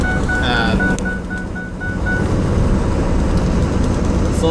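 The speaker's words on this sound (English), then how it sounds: "We're at 60 miles an hour. We're at full throttle." Ford 6.0 Powerstroke diesel truck held at full throttle around 60 mph, a steady loud interior engine and road drone with continuous broadband roar and a faint whine, no pauses throughout.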